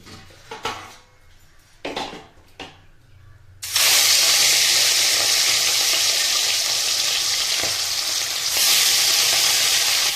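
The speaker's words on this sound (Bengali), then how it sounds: "ধোয়া ওঠা গরম এখন আমি মাছগুলোকে এর মধ্যে ছেড়ে দিচ্ছি" Rohu fish pieces dropped into smoking-hot mustard oil in a kadai, a few soft handling knocks, then a sudden loud, steady sizzle and crackle of frying that holds strong to the end, with no talking.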